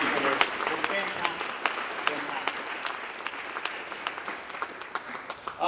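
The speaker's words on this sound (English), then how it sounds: "So big round of applause for everybody who just spoke" Audience applause for a group of nine speakers at a local talks event, dense and steady clapping from a crowd with sharper individual claps standing out, continuing throughout with some voices mixed in.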